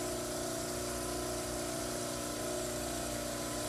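A dental model trimmer grinds the heels of a plaster cast, a constant loud motor whir with a steady hum and a watery hiss, unbroken and close throughout.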